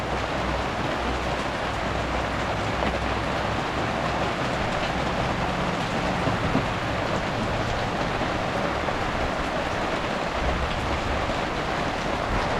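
Rain falling steadily outside a camper, a dense, even hiss of drops on surfaces with a low rumbling undertone, continuous and unbroken with no talking.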